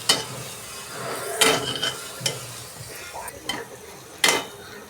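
Eggs stirred in a sizzling pan, several sharp scraping strokes of a utensil spaced irregularly over a constant close frying hiss, with no talk.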